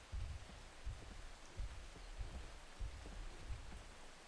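Steady rain falling in the survival game Atlas, a soft continuous hiss with low gusty rumbles swelling at intervals, no talk over it.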